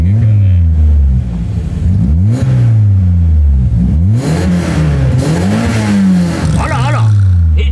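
Toyota AE86 Levin four-cylinder idling and being revved repeatedly in several rising and falling blips, loud and close, with people talking over it.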